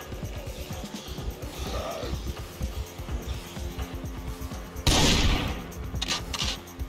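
Gunshots ring out in the Project Zomboid zombie survival game, a steady patter of shots under a busy background, with a louder blast close by near the end.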